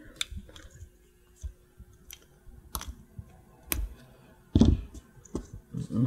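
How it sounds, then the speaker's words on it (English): Sharp, sparse clicks and snips of thin 26-gauge jewelry wire being cut for a wire-wrapped pendant, with small handling noises between them and no talk. "you're going to cut 36 inches of this thin 26-gauge wire"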